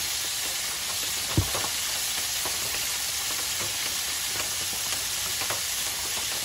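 Burgers and hot Italian sausage sizzle in a cast iron skillet at a camp cookout, a loud steady frying hiss with a few soft pops and scrapes throughout.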